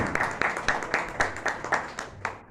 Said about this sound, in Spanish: les pido un aplauso también para él, por favor